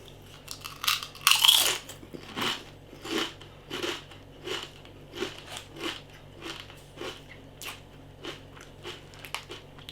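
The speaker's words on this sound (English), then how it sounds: "Massive crunch to them." Someone crunches Walkers MAX Double Crunch chicken and chorizo crisps close up, starting with one loud bite and then a steady series of sharp, rhythmic chewing crunches that slowly fade.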